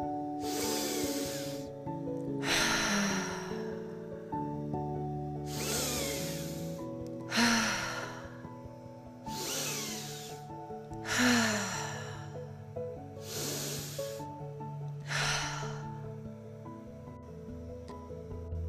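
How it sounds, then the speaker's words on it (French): Slow breathwork breathing in a guided chakra-cleansing session: about seven long, airy hissing breaths, evenly spaced every two to three seconds, close and fairly soft over a quiet sustained musical drone. "Et surtout garde ta respiration en mouvement."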